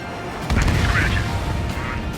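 A missile launching in the combat flight game Ace Combat 7: a sudden loud whooshing burst with a low rumble from about half a second in, sustained over steady engine noise, under radio chatter.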